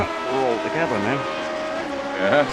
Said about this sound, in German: Fährt ein bisschen zu schnell in die Kurve, verliert das Heck und dann gibt es hier einen schönen 360